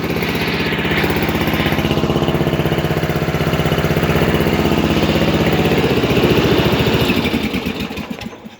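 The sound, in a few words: ride-on lawn mower engine running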